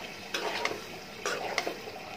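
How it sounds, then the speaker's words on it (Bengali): Dried fish curry is sautéed in a pan, with a quiet, steady sizzle and two short bursts of a utensil scraping and stirring against the metal. "এটা আবার কিছুক্ষণ কষাবো"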